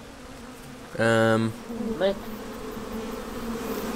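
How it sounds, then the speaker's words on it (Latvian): Bees buzz in the video game PEAK, a loud harmonic drone lasting about half a second, then a shorter buzz, over steady game background noise. "Bitiņas."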